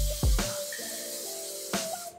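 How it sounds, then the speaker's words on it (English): Cooking spray hisses briefly onto a pan for keto pancakes, a short close burst near the start with a second quicker puff later, over quiet kitchen background. "give it a little quick spray"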